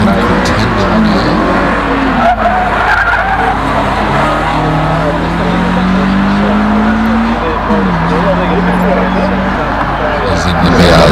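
Subaru BRZ version of the Toyota 86 attacking a hillclimb course, engine note rising and falling through gear changes with tire squeal, heard from trackside while commentators talk over it.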